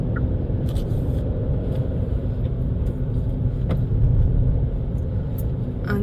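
A car on the road driving steadily with a constant low engine and road rumble heard from inside the cabin, loud and continuous, with no clear gear change standing out.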